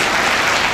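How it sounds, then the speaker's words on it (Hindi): Audience applause at a district women's education and safety ceremony in Amroha, a dense, steady clapping that stays loud through the short burst with no voices. "जोरदार तालियां एक बार"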